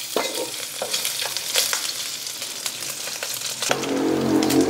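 Pork fat sizzles and crackles in its own rendered oil in a pan as it is stirred, a steady close frying hiss broken by scraping stir strokes, growing louder and denser toward the end.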